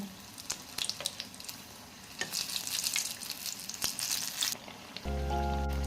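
Chilli fritters (mirchi) frying in hot oil, a close, busy sizzle with crackles and pops that ends abruptly in a steady low hum.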